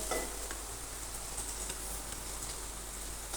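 Okra frying in a cooking pan as red dry-spice chutney is added, a steady close sizzle with faint stirring, quiet and without talk.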